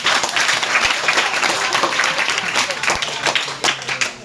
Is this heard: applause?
yes